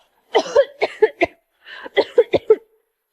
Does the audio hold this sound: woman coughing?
yes